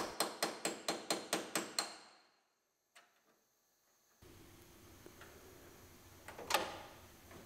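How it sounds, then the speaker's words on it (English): A repurposed old scraper, its wooden handle broken off, is hammered to break spot welds on a 2018 GMC Sierra Denali truck cab. About nine quick, evenly spaced metallic strikes are followed by quiet and scattered shop noise. "That was an old wood-handled scraper that the wood handle broke and became my spot weld breaker."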